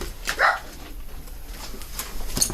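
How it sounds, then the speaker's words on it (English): A dog barks in the background in a single brief burst, with faint chirps and scattered noise around it; no one speaks. "There's a dog barking in the background."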